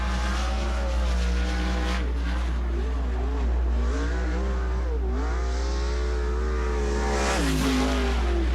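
Sprint car on a qualifying lap at Sunset Speedway during a Western Sprint Tour event, its engine roaring loud and close with rising and falling revs through the corners, continuous across the run.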